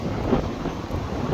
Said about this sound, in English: It's just nothing but wind, and it's cold.